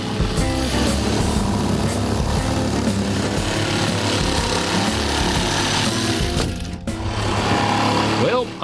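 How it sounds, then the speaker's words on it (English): A jigsaw cuts away wooden shed siding, a loud continuous rapid buzzing chatter close by with brief dips as the blade moves through the panel. "Then insert a jigsaw into the holes and begin cutting away the siding."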